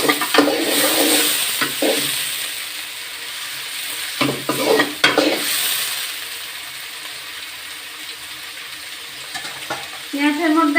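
Chopped onions fry in a pan for a Bengali koral fish curry, giving a steady sizzle broken by repeated scraping stirs of a spatula, with no voices over it.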